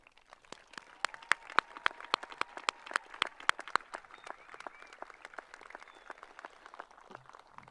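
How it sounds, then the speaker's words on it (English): Audience applause at a high school graduation commencement ceremony, sharp distinct claps rising then thinning to scattered, faint clapping, heard from a distance in a large space. "Give them a round of applause."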